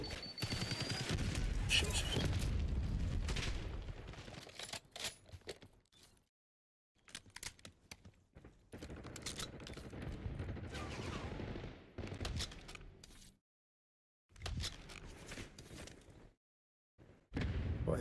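SMG gunfire in Black Ops 6, with fast bursts of automatic shots that come and go between quiet gaps, loud and close, and a voice briefly curses partway through.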